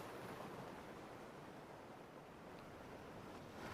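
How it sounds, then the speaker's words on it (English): Ocean waves washing onto the shore, a soft, continuous broadband roar that swells gently and rolls on faint and distant with no voices. "The waves continue"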